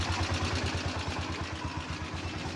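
A freshly overhauled engine on a locally built, engine-driven bike vehicle in good condition idles steadily up close, with a rhythmic low throb and light mechanical clatter running throughout.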